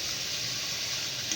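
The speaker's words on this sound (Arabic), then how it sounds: "هروح مشوحاها مع اللحمه كده" Onions sautéing with meat in a pan give a steady, close sizzle that holds evenly throughout, with a bright hiss and no talking.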